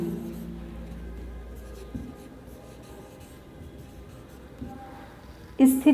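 Pen scratching across paper while a formula for elasticity is written out for an economics lesson, a faint, steady scribble that runs for several seconds before a brief louder rustle at the end.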